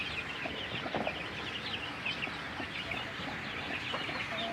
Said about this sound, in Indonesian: Ternyata ayam putih ini bisa bertelur dan bisa ditetaskan.